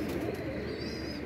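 Pigeons kept in a loft coo softly amid a steady, dense background noise, a faint low murmur that continues without clear breaks.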